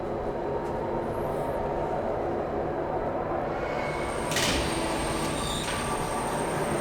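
A tram rolling along in the Riven remake game, a low continuous rumbling drone of rail travel with a brief high metallic squeal partway through, steady and mid-level with no speech.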